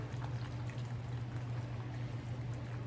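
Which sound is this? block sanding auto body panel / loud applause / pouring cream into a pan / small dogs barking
pouring cream into a pan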